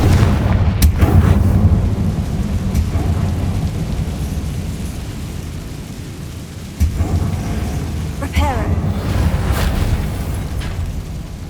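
The Confringo explosive spell in Hogwarts Legacy booms as a deep, rumbling blast with crackling bursts and a rolling, thunder-like roar that holds throughout, then flares again near the end.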